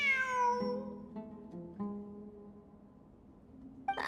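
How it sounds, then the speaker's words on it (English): A cat in the video game Genshin Impact lets out a clear, drawn-out meow that falls in pitch, followed by quieter sustained tones and a short soft sound at the end. "It really is a cat."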